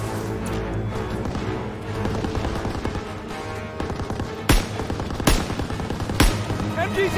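Machine gun fire in the Call of Duty: WW2 video game: dense, continuous rattling bursts with several sharper, louder cracks near the end, amid a busy battle mix with faint voices.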